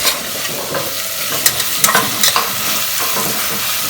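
Onions browning in a pan for a Bengali mutton curry, a loud, close, continuous sizzle with a few spoon scrapes and clatters mid-way; no one speaks.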